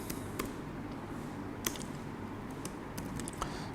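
Code is typed on a computer keyboard in quick, light keystrokes with brief pauses, faint and close against a quiet room.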